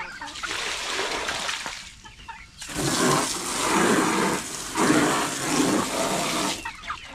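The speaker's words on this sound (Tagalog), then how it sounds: "Malalagay muna tayo ng tubig." Water splashes in loud, rushing bursts while a backyard garden is watered, with two long surges separated by brief pauses.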